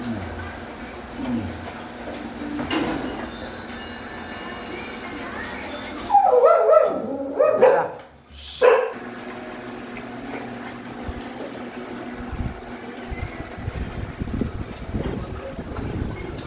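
Pet dogs bark and yip in a short burst midway, close and fairly loud, amid steady background noise and some talking.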